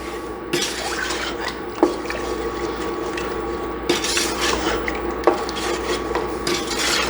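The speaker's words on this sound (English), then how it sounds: "And drop our peaches in there now. Give it all a stir." Peaches being stirred in a cooking pot for peach cobbler, with a steady scraping swish and a few sharp clinks of the spoon against the pot, close and fairly loud, with no talking.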